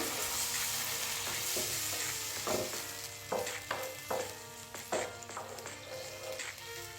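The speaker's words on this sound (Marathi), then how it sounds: "याच्यामध्ये मी एक भर आता दूध घालते" Milk poured into a pan of sautéed dates for date kheer, with steady sizzling and scraping of a spoon stirring, punctuated by several louder clinks and splashes midway through.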